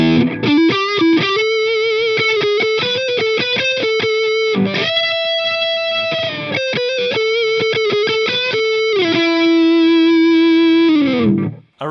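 Distorted electric guitar through a Blackstar Amped 1 modeling amp, played direct, a melodic riff with sustained bends and fast picked runs, loud and continuous with a processed, effected tone.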